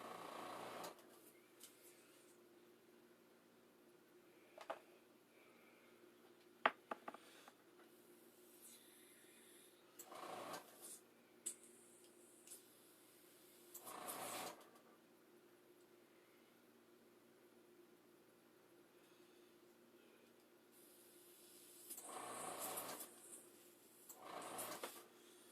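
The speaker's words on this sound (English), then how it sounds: "then I'll throw some thinner in here and just spray it out and make sure it comes out clear" An air spray gun blasts thinner through its nozzle to clean it out after painting a mask, several short faint hissing bursts separated by quiet gaps and small clicks.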